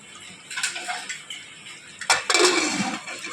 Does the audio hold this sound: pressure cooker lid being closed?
yes